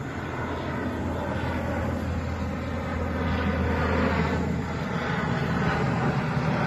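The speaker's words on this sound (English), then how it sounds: "the sound of a C-130 flying over" A C-130 propeller aircraft drones steadily overhead, a loud continuous engine roar that swells slightly toward the middle and holds without pause.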